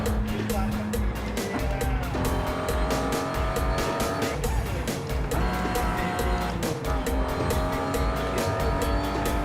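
An upgraded BMW i8 sports car with an engine tuned to 614 horsepower accelerates hard on a motorway, giving a loud continuous engine roar with rising pitch and gear-change dips, under a man's speech.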